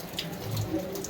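Water pooled inside a cave temple, a soft trickling, splashing wash heard close and at moderate level through a brief moment.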